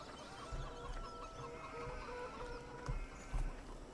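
Chickens cluck in the farmyard of Farming Simulator 17, a few soft, irregular clucks and bursts over a quiet ambient background, fairly faint and not far off.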